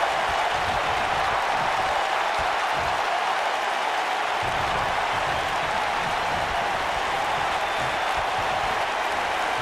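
A sold-out wrestling arena crowd in WWE 2K19 roars and applauds in a constant, dense wash of cheering that holds at an even level throughout.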